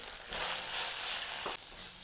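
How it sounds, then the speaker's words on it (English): Chopped onions dropped into a hot pan for a soya chunk masala curry, giving a sudden loud broadband sizzle that swells, holds for over a second, then drops back to a softer frying hiss, close and with no talking. "add the chopped onions which we have made"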